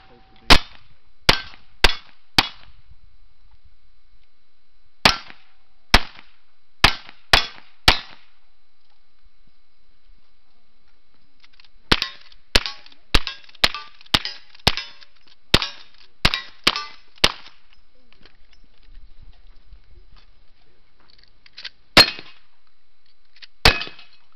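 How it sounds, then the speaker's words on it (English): Pistol, rifle and shotgun shots ring steel targets at a cowboy action shooting stage, heard as a string of sharp, loud cracks with metallic clangs, fired in quick clusters separated by short pauses. "Start with pistols, move to rifle. Complete it with the shotgun."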